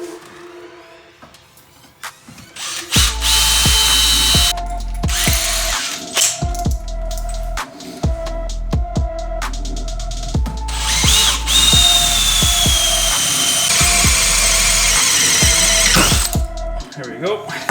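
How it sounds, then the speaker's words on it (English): A power drill with a small bit drills out seat mount rivets on a 3rd Gen Toyota 4Runner, loud close bursts of whining motor that start and stop repeatedly, with ratcheting bit chatter between runs. "So I'm just using a smaller drill bit first,"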